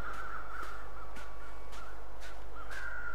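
Crows caw repeatedly in a snowy wilderness in The Long Dark video game, a series of evenly spaced harsh calls over a steady wind and ambient hum, with no talk.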